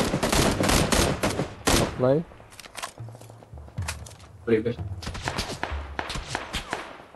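Bursts of gunfire in the battle royale game PUBG, including an M16 rifle, crack out in quick volleys early on, then scattered shots and footsteps follow while players talk over the action.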